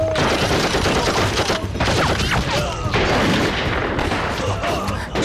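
A burst of gunfire rings out in an anti-Japanese war film about a sniper, as Japanese military police close in. It comes as loud, overlapping cracks and thuds in a dense, continuous barrage with brief gaps.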